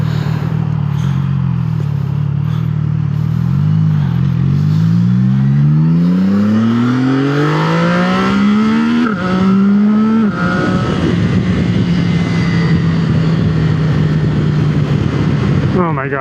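A motorcycle's throttle is twisted open on the road, the engine note climbing through several rising pulls and gear changes under strong wind rush, with the rider talking over it.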